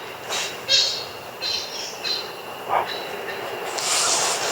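A series of high chirping bird calls, repeated at uneven intervals over a steady hissing background.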